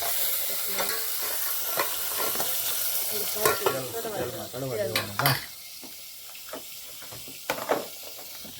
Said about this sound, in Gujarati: હા હવે શાક વઘારી વાળા. હવે એને આપણે થોડુંક હલાવી